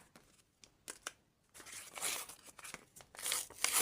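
Crinkly plastic rustling and tearing, a few brief crackles at first, then louder continuous crumpling as a small packet of earrings is pulled open close by.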